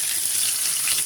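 Steak sautés in an air fryer pan with a bright, steady hiss and crackle, close and fairly loud, lasting about a second with no voices.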